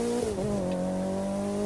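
In The Crew 2 racing game, a car engine dips briefly then settles into a loud, sustained rev, close and steady for under two seconds, with a faint tire-squeal edge and no voices.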